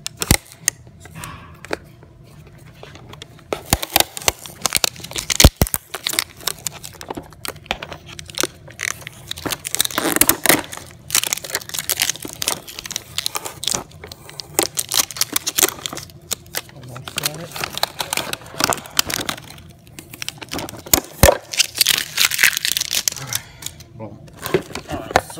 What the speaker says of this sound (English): Pull this tape off right here. Trying to do this with one hand. Some strong ass tape.